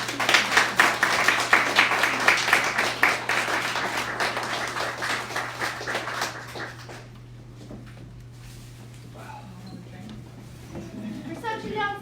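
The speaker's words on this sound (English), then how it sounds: "We'll give Caroline another round of applause." A lecture audience gives a speaker a sustained round of applause, many hands clapping close and full for several seconds before thinning out under a low steady hum, with a few people chatting afterward.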